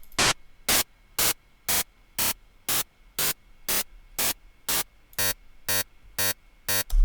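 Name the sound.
synthesized noise from Ableton Operator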